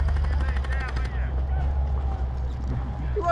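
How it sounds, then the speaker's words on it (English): Airsoft guns fire in a rapid automatic burst during gameplay at an airsoft field, followed by scattered shots over a steady background hum, with voices calling out nearby. "You don't need to fire at us anymore!"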